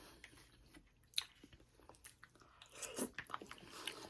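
Someone eats ravioli with sauce, with soft close-up biting and wet chewing in small irregular bursts, quiet and without speech.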